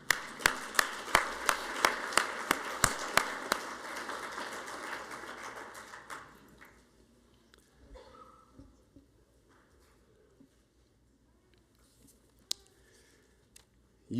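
Applause and clapping from a commencement audience for graduates, steady and fairly dense for about six seconds, then fading to scattered claps and quiet room sound.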